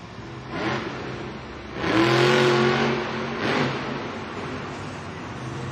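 A monster truck engine revs hard as the driver goes for a popper into a nose wheelie at a Monster Jam stadium event in Indianapolis, with a loud roaring surge in the middle and crowd-like roar throughout.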